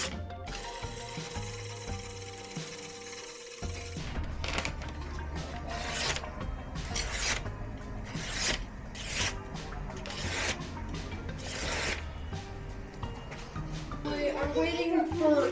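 Rhythmic rasping strokes of a file on a handmade knife blade, steady back-and-forth scrapes after a few seconds of other handling noise, heard close up with a voice talking over them.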